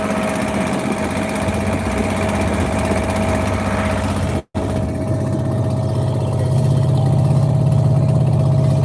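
A passenger trawler's diesel engine chugs on the Karnaphuli River at Patenga, Chattogram, loud and close with a steady droning hum. There is a momentary cut, then the engine continues with a stronger low rumble.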